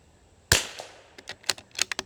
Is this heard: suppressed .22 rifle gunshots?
yes